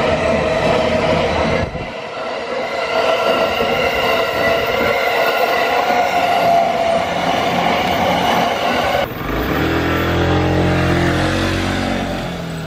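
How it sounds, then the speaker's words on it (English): A train in Kamakura, Japan rumbles steadily past up close, a continuous loud roar with rattling and a low droning hum that shifts near the end. "I hear a train."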